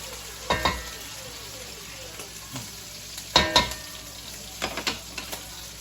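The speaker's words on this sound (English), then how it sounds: "After this is cooked down for 2 minutes, we're going to add in the next ingredient. Just stir that in." A spoon stirs ingredients into yellow rice in a pan, giving a few soft scraping strokes over a low, steady sizzle, with the louder scrapes grouped near the middle and end.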